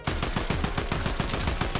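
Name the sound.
gunfire in the video game Fortnite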